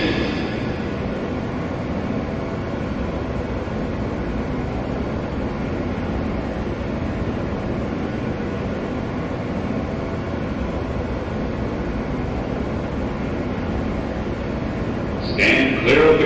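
Interior rumble of a Queens-bound New York subway R train in motion, a steady low roar of wheels and car noise throughout, with a brief rattle near the end.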